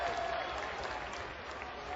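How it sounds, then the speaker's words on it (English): A TNA wrestling crowd at Universal Studios in Orlando, Florida cheers and applauds in a dense, continuous roar, faint and distant for about two seconds. "The crowd just on fire."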